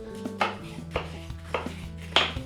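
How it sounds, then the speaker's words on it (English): A knife chops lemons on a cutting board, four crisp, evenly spaced thuds close by with a faint hum underneath and no talking. "So let's grab our cutting board, let's grab our knife, let's grab our lemons"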